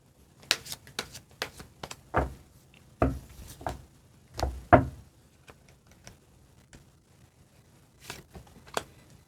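Oracle cards being shuffled for a tarot reading: a series of crisp riffling and slapping bursts, close and fairly loud, with brief pauses between, no talking.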